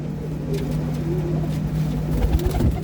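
Low, throaty pigeon cooing repeats softly and steadily, close by, over a constant background hum.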